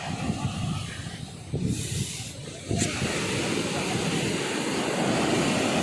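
Rough, churning sea surf on the Thoothukudi shore ahead of a storm, a steady broadband roar with wind buffeting the microphone, rising in intensity toward the end.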